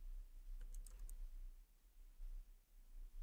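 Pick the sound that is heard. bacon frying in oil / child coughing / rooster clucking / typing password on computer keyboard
typing password on computer keyboard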